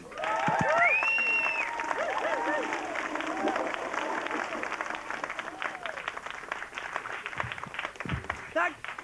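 An audience claps and cheers for a stand-up comedian at a live comedy show, the applause loud and sustained before fading, with a voice speaking through the end.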